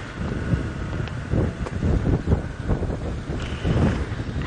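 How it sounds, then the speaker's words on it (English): Steady gusty wind buffets the microphone on an early-morning safari drive, with a low rumbling roar that swells and fades throughout, with no voices. "Very windy conditions"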